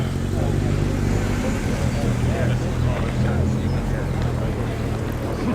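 A classic Ford Thunderbird motoring past on a road run, its low engine rumble steady and close amid general traffic noise.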